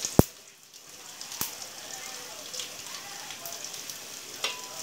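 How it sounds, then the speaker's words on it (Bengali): Bay leaf and whole spices such as cloves frying gently in oil in a pan, a soft steady sizzle with a sharp clank at the start and a few light knocks. "এক পাশে এটা একটু হালকা ভেজে নিচ্ছি আমি"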